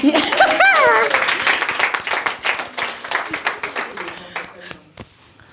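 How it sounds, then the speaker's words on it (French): Live audience in a French-language coaching session applauding themselves, a loud burst of clapping and a few cheers at the start that thins into scattered claps over about five seconds. "Acclamons pour nous-mêmes."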